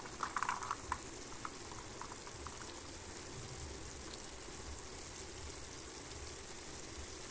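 A pot of pasta boils on the stove, giving a faint, constant bubbling hiss with a few small pops near the start, steady and low throughout.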